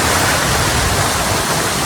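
Water pours over an overflowing dam as a waterfall, a loud, steady, close rushing roar that fills the whole moment without pause and with no voices.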